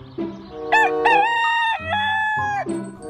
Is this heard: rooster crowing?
yes